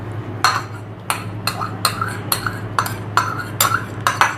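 Yogurt spooned into a cooking pot while making achar gosht, heard as about nine distinct metallic spoon scrapes and clinks against the pot at an even rhythm, close and clear over a low kitchen hum.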